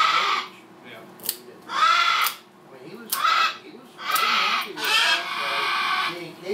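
A distressed pet bird at an avian vet squawks loudly in repeated harsh bursts, about six calls spaced roughly a second apart, close to the listener, with a little background talk.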